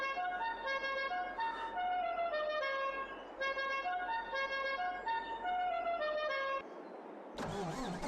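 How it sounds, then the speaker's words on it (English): A modded special horn on a harvester in Farming Simulator 22 plays a repeating melodic tune over a low engine drone, clear and sustained for several seconds, then stops as a brief noisy burst follows. "Well, that's the horn."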